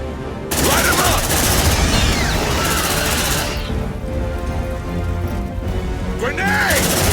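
Marines open up with sustained automatic gunfire in Aliens: Dark Descent, a loud dense burst, a brief lull, then renewed shooting, mixed with game effects and shouted voices.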